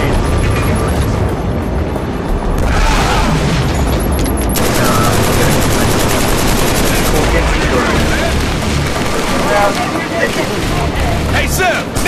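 Explosions and rapid gunfire in Killzone 3, loud and dense throughout, with aircraft-like roar and battlefield chaos.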